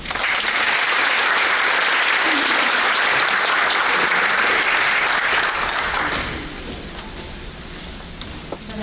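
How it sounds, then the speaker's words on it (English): Steady applause from an audience at a scholarship award ceremony, loud and continuous before easing to a quieter patter of clapping near the end. "please hold your applause until the end of the presentation for each school"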